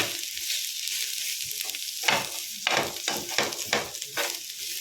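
Onions browning in a pan for a rustic paneer masala curry give off a close, steady sizzle, broken by several sharp stirring scrapes in the second half, with no voices.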